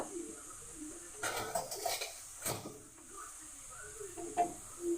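Grated carrot and sugar are mixed together in a pan for carrot halwa, giving a few soft, close scraping and clinking strokes of a spoon against the pan amid quiet background hiss.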